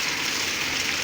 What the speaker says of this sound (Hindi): कितनी तेज़ बारिश है